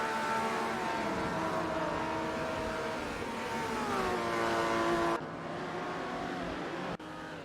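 Vintage supercars race at Spa in a video game, engines droning loud and steady with rising and falling pitch as cars rev and shift, the tone cutting abruptly twice near the end.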